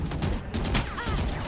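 Rapid bursts of video game gunfire crackle loud and close in a dense, continuous fusillade, with no talk over them.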